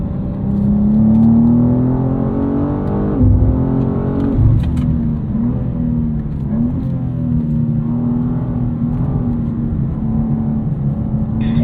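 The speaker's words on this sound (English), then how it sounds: "Silver Z4 bringing it into pits this time by." A silver BMW Z4 M40i drives on the track at the BMW Performance Center, heading into the pits. Its engine hums steadily and close by, with pitch shifts and a couple of brief thumps from gear changes or bumps.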